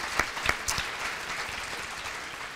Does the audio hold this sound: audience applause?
yes